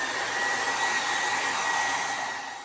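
A hair dryer blowing steadily, a continuous loud whooshing roar with a faint whine, close and unbroken for the whole stretch, easing slightly at the end, with no voices.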